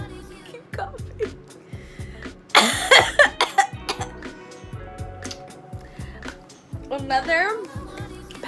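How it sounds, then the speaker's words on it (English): Someone coughs in several sharp bursts mixed with someone talking, a rough cluster of coughs in the middle and more near the end, close to the microphone. "Keep coughing."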